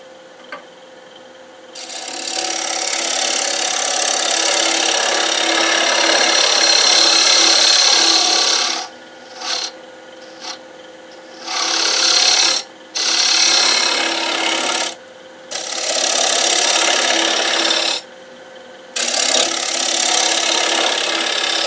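A natural-edge English walnut bowl spins on a lathe while a gouge cuts its center, a loud continuous rasping, scraping hiss broken into bursts as the tool lifts away and returns.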